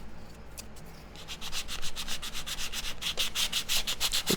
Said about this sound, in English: I am going to sand the masking tape a little bit